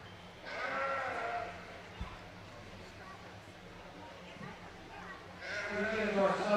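Sheep bleat at a livestock show, two drawn-out calls near the start and end of a noisy barn-like space, with a low background hum and a soft knock between them.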